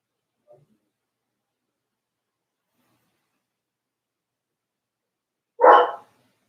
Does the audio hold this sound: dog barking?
yes